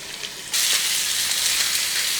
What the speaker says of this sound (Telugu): మీడియం ఫ్లేమ్లో కూడా పెట్టుకుని వేయించుకోవచ్చండి